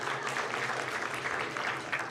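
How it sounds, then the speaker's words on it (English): Brief, steady clapping from an audience at a school district board meeting, moderately loud and continuous with no pauses. "go ahead,"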